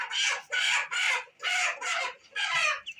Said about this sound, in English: So this one here, this is satin bantam.